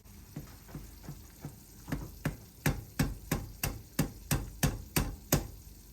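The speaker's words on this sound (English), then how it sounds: "I'm a bit disappointed that I've got it bubbling away as hot as that" Food bubbles and spits in a very hot pan, sending out a steady run of sharp pops about three times a second that grow louder toward the end, with no voices.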